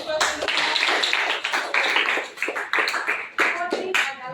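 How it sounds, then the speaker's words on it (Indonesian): Clapping from a small group of trainees at an Indonesian job training session on computer software, a loose uneven patter of hands with distinct bursts and gaps, fairly close and moderately loud. "Kasih tepuk"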